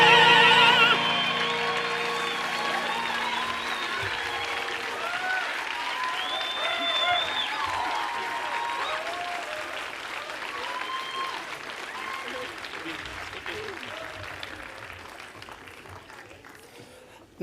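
A theatre awards audience applauds a tenor group in a long, steady wash of clapping, with sung and spoken voices curving over it as the ovation slowly fades.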